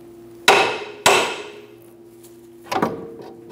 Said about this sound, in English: give the control arm a bonk to remove the ball joint from the control arm